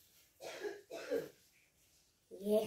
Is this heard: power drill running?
no